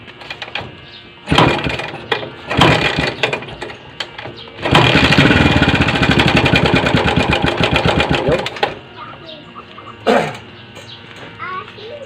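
A small Bajaj CT 100 motorcycle engine, idling in neutral and worn enough to need an overhaul, sputters and revs in bursts, with one longer loud rev in the middle, while a voice speaks intermittently.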